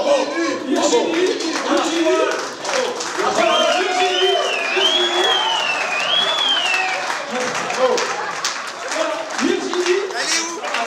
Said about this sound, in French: Donc je vous demande d'applaudir Virginie.